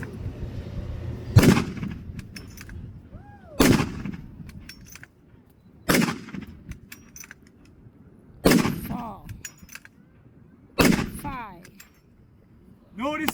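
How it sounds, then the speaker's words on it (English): A Krag-Jorgensen .30-40 bolt-action rifle fires five loud, sharp rounds outdoors at a military history demonstration, spaced roughly two seconds apart, each crack followed by a ringing echo. "5 rounds from the Krag."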